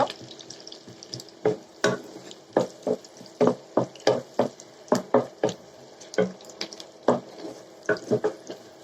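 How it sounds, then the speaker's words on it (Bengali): Onions fry in a pan, a series of crisp irregular stirring scrapes and spatters recurring through the whole stretch, close and fairly loud, with no talking. "এবারে পেঁয়াজগুলো ভেজে নেব"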